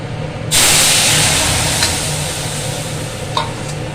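Lentils land in a pan of hot oil with fried mustard seeds, bursting into a loud, sustained sizzle and hiss that slowly eases while a utensil stirs, with no talk.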